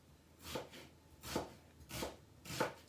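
Onions chopped with a knife, four soft, evenly spaced cuts about a second apart, quiet and close, with no talk.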